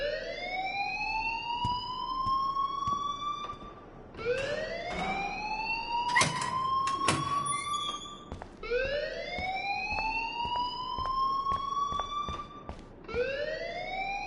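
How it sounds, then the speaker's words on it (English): A wailing alarm in Life is Strange repeats in loud rising sweeps every few seconds, steady and insistent, with scattered clicks and knocks underneath and no talking. "please turn off that alarm since that's your job."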